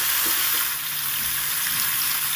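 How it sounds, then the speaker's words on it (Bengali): Pieces of young jackfruit lightly frying in hot oil, a close, steady crackling sizzle throughout. "এবার এঁচোড়গুলোকে প্রথম হালকা করে ভেজে নেব।"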